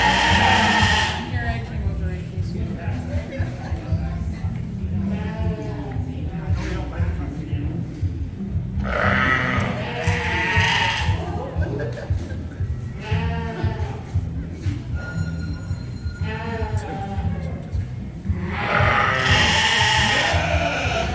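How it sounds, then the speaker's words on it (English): Sheep, including champion ewes, bleat repeatedly at an agricultural sheep show, with loud calls rising over a constant crowded hall din and people talking throughout. "these are the champion ewes in all the classes"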